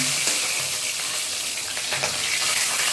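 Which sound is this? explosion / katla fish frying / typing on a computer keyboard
katla fish frying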